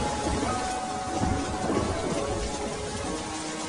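Heavy rain in a rainy-day audio story, a dense, even wash of downpour noise that stays loud and unbroken from start to finish.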